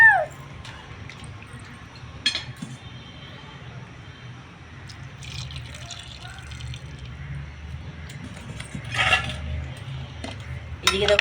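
Hot water goes into a pot of mutton curry with potatoes, a soft trickle and splash beneath clinks of utensils against cookware, with a few sharper clatters and light background talk.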